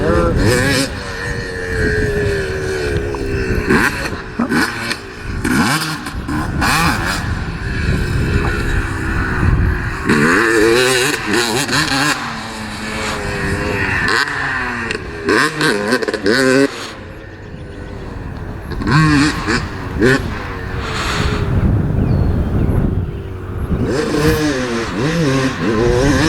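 A two-stroke race dirt bike ridden around a track: a loud, continuous engine note rising and falling with revs and shifts throughout, with people talking over it.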